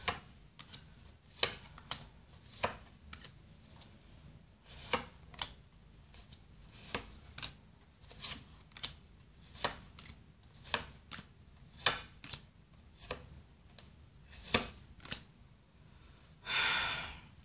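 Soft papery slaps and taps repeat at irregular intervals as tarot cards are laid out one by one on a surface, close and quiet, ending in a rustle.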